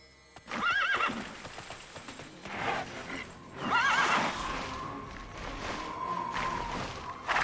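A horse in the online game Tera gives two clear neighs over the clip-clop of its hooves, followed by a faint whinny and steady hoofbeats, with no voices.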